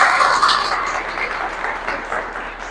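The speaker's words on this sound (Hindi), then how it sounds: "जोरदार तालियां हो जाए सर के लिए एक बार" Applause from a business seminar audience welcoming an achiever on stage, a brief loud burst of clapping that slowly fades.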